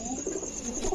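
Rajshahi Giribaz pigeons, a male and female, give soft low cooing over a faint background chirr in one brief close burst.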